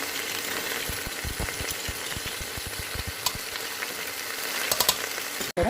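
Spices fry in a pan for chicken legs, a steady sizzle under a quick run of rhythmic scraping stirs, with a few louder knocks near the end.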